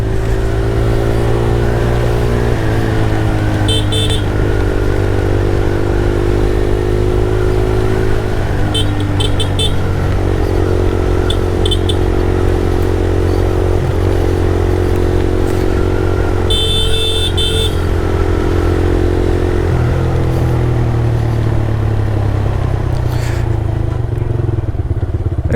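A TVS Rider 125 motorcycle engine runs loud and close, idling with a steady low drone and rising into several revs, with brief clattering bursts between.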